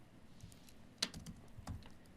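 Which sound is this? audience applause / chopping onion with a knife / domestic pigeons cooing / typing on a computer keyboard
typing on a computer keyboard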